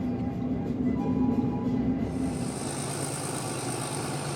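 A passenger train rumbles steadily through Ecuador, a continuous close, broad mechanical roar with a low tonal hum that shifts partway through, no talk.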